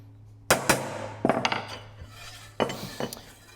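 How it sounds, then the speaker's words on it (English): A heavy hammer strikes a metal body panel being shaped for a Maserati Mistral, close, sharp metallic blows landing in two quick clusters of three or four hits with short pauses between. "Now, I'm holding the hammer down there, and I've got a heavy hammer."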